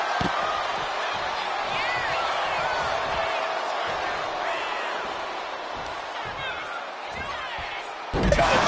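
A wrestler's body slam hits the mat in a WWE video game match, a sharp heavy thud rising out of steady crowd noise and commentary.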